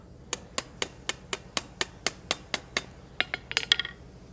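A hammer strikes a hand-forged hinge against the edge of an anvil, about a dozen crisp, evenly spaced ringing blows close by, ending in a quick cluster of lighter taps.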